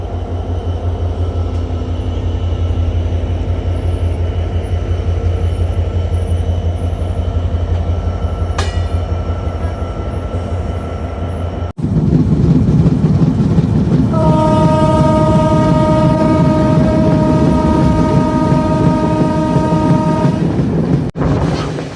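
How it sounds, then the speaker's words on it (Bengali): The Rupashi Bangla Express pulls out of platform 1 at Narail railway station, bound for Benapole, with a loud steady rumble of wheels and cars, then a long sustained horn blast close by. "নড়াইল রেল স্টেশনের 1 নং প্ল্যাটফর্ম থেকে ছেড়ে যাচ্ছে বেনাপোল অভিমুখী রূপসী বাংলা এক্সপ্রেস"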